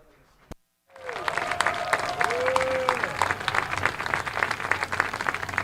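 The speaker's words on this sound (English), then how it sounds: "one more big round of applause for all of today's Mount St. Joseph football seniors" Crowd applause for the Mount St. Joseph football seniors at Senior Day at Schuler Field, a broad, sustained clapping from the stands that swells after a short silence, with a voice speaking over it.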